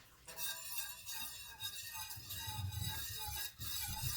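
A whisk working agar agar powder into Moscato wine, a continuous close scraping and swishing against the bowl that runs steadily from start to finish with a brief break near the end, with no talking.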